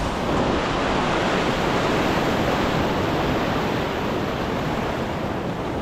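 Strong ocean waves breaking at a beach, a dense continuous roar of surf close by and loud, with some wind buffeting and no voices.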